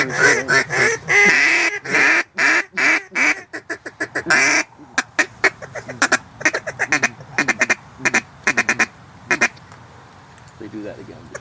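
Wild ducks and geese call near a Wisconsin hunting spot with a flurry of loud quacks and honks. Dense overlapping calls come first, then sparser, scattered squawks and honks follow.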